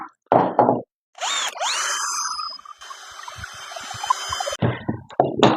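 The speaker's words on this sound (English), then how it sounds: "We'll drill a little hole." A power drill bores a small hole in a wooden picket lantern, whirring in short bursts with a higher whine and steady rattling run between quieter handling noises.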